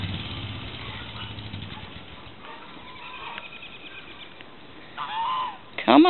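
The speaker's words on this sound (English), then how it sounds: "Oh, the geese came out." Geese honking in a backyard, with a few loud, close calls bursting out near the end over a low engine-like rumble and faint background noise.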